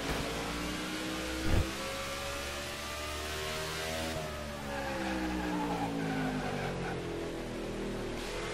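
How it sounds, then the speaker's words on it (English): Tires squeal and skid under locked brakes on a NASCAR '15 stock car, a sustained sliding screech layered over the steady engine roar, with a brief thump partway through. "Locking up the brakes, especially locking up that left"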